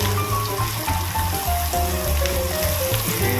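Garlic fries in a pan for a beef broccoli stir fry, with a steady, dense sizzle close by. Tonal background music plays under it and no one speaks.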